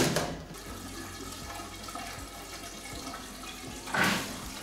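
Sololift pump in a boiler room with a condensing boiler kicks on and pushes water through pipes, a steady watery churning and gurgle with a louder surge near the end, no talking.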